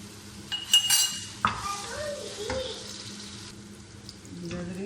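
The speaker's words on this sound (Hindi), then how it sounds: "अदरक लहसुन फ्राई हो चुका है।" Ginger and garlic frying lightly in a pan, a steady soft sizzle with a few spatula clinks and scrapes early on, close and moderately loud, no talking.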